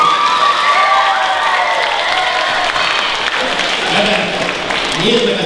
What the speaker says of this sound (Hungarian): Tapsoljátok meg Bitó Levente!